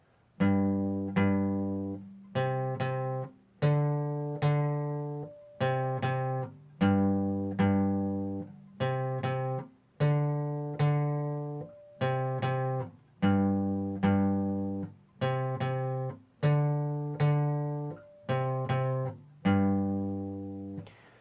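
A plucked guitar plays a repeating single-note melody, notes ringing clearly in short phrases with brief pauses, solo and unaccompanied.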